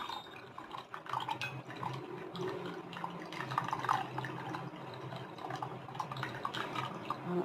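Tamarind juice from soaked tamarind is poured into a cooking pot, a soft steady splashing and trickling of liquid that lasts throughout, fairly faint and close.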